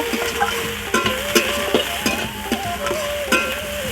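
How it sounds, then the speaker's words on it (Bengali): River prawns fry in a pan with a steady hiss of hot oil, broken by repeated scraping clicks of a spatula stirring them at a moderate, irregular pace close by. "চিংড়ি মাছটা আমার ভাজা হয়ে গেছে"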